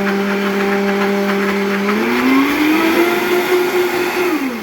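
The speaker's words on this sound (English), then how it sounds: "I finished blending" A Vitamix blender blending basil, its motor holding a steady, loud whine that climbs in pitch midway, stays high, then drops as it winds down near the end.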